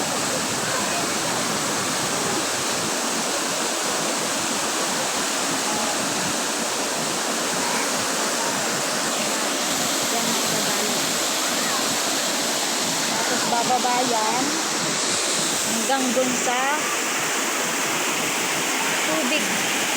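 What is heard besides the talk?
spring water rushing down a channel at a resort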